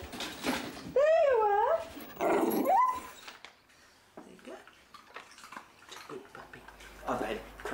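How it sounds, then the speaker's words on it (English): A vicious dog growls and barks up close in loud, wavering bursts, with talk around it. "you're being attacked by a vicious dog"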